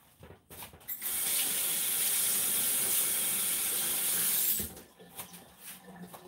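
Tap water runs into a kitchen sink while something is rinsed off during coleslaw preparation, a steady close hiss lasting several seconds before cutting off, with faint handling noises around it.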